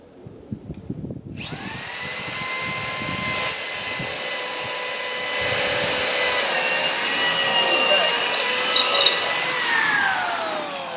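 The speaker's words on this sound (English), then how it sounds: "I can drill this one hole here, get this one going first" A power drill whirs steadily and loudly for several seconds after a brief pause, its pitch shifting slightly as it bites into material.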